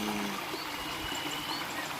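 Clear spring water flows steadily at the Sendang Widodari bathing spring in Widodaren village, Gerih, Ngawi, a constant close rushing wash with no voices.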